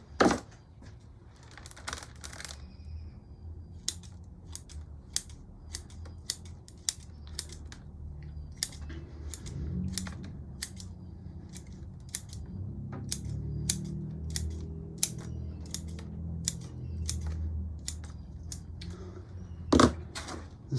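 Pruning shears cut away excess roots while a potted Rose of Sharon is repotted, sharp close snips at an uneven pace across the clip, with soft rustling of soil and roots between them.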